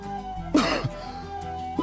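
A person with a fever coughs once sharply, a short harsh throat-clearing cough in the middle of a quiet indoor room, followed by a faint second catch near the end.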